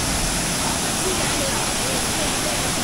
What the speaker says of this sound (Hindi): ये देखिए करीबन 30 फीट की ऊंचाई से पानी गिर रहा है।